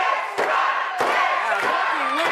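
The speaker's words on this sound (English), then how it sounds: "leading the crowd in a cheer for X-Con" A wrestling crowd roars and chants together in a loud, dense wash of voices, with sharp bursts and rising shouts recurring about every half second or so.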